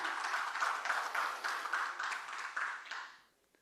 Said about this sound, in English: give a salvo of applause to Emanuel and his team